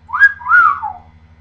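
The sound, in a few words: man imitating a wolf whistle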